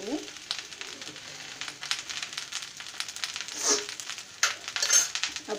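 Okra sizzles in a pan with red chilli and coriander spices while a spoon stirs and scrapes through it, making soft clinks and bursts of crackle over a steady frying hiss, close and moderately loud.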